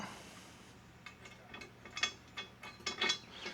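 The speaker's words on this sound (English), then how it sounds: "just put them on till they're hand tight, and then I will get them down with socket." Hand socket wrench ratcheting nylon locking nuts tight on a Jeep Gladiator roof rack, giving faint, quick clicking pawl bursts that grow somewhat stronger toward the end, close and quiet with no talking.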